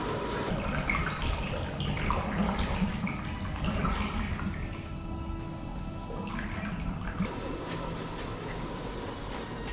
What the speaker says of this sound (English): it's like sucking water down.